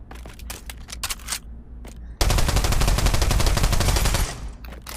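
A burst of automatic fire from an HK UMP submachine gun in the Pavlov VR shooter: a few isolated shots and clicks, then a loud, sustained rapid string of rounds lasting about two seconds before cutting off.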